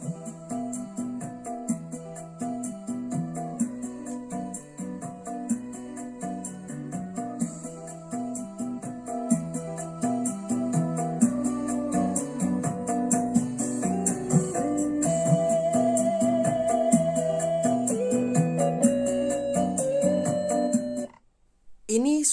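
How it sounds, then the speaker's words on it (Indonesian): Music plays through a DIY loudspeaker with no tweeter fitted, continuous and fairly loud with rich low and mid tones and a slightly dull top end, cutting out briefly near the end before resuming. "Ini suara sebuah speaker tanpa tweeter."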